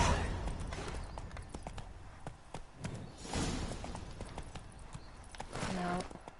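Roach the horse from The Witcher III galloping in steady clip-clop hoofbeats, with a brief whinny near the end, over game ambience and a person talking throughout.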